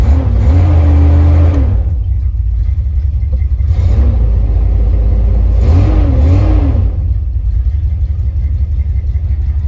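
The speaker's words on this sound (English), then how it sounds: "Rev in gear, rev out of gear." A classic Dodge big block car engine idles with a deep, loud rumble and is revved in three short bursts, rising and falling, close by and with no talking.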